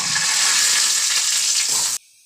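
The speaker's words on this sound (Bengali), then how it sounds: "এখানে তেল বসিয়ে দিয়েছি কড়াতে। কালো জিরে ফোড়ন দিয়ে দেবো।" Nigella seeds temper in hot oil in a kadai with a loud, close, continuous hiss and crackle that cuts off abruptly near the end.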